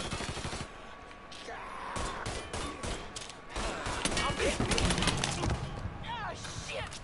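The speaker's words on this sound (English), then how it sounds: "That's some pretty bad shooting." Bursts of gunfire in the Mafia 3 video game, rapid volleys of shots scattered across several seconds, loud and close, with a voice shouting over the shooting.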